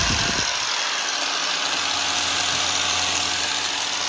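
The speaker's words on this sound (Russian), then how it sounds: "Беру, включаю болгарку." An angle grinder running steadily at low speed, about 3000 rpm, while an axe is sharpened with a flap disc: a continuous, loud, even whine and hiss with no pauses, and no talking.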